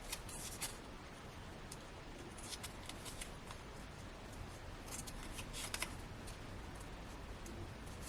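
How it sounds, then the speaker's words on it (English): Scissors snipping through cardstock pips in papercraft work, a run of quiet crisp cuts in small irregular bursts, close and faint with light handling noise between them. "Let me grab some scissors because there's quite a few pips here."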